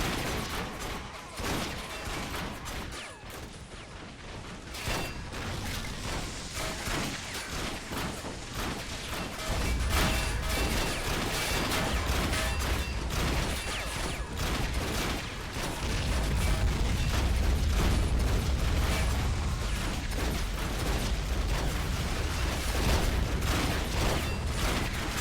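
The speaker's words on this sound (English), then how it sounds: "screaming, and firing their Ork bolters while doing so" Ork boyz fire Ork bolters in a Warhammer 40k video game mod: dense, ragged bursts of gunfire and mechanical clatter roll on continuously, swelling louder in the second half amid battle noise.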